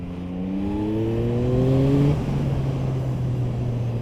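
A 2025 Yamaha MT-09 SP pulls hard under acceleration, its engine note climbing steadily before a quick-shifter upshift cuts in and the drone settles lower, close and loud with wind noise and no talk.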